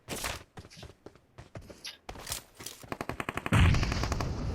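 Gunfire rattles in PUBG Mobile, with scattered single shots, then a rapid automatic burst of evenly spaced cracks leading into a louder, dense volley at the end.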